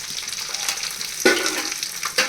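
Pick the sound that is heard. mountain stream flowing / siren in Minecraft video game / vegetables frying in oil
vegetables frying in oil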